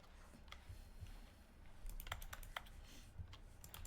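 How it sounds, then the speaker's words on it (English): Computer keyboard typing, quick scattered key clicks in short bursts, fairly faint and close, with a brief pause before a denser flurry of keystrokes. "What is this typing? Every time I click."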